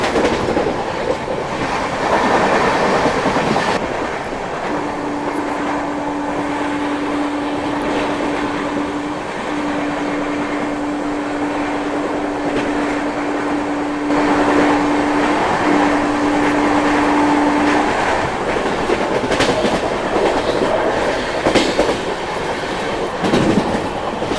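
A Rajdhani Express from Patna to New Delhi running at about 100 km/h: a loud, continuous rumble and rattle with a long droning tone in the middle, and no voices.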